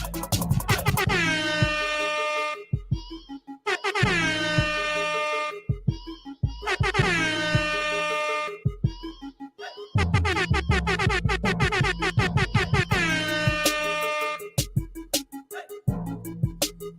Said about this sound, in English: Eastwood, where's the air horn?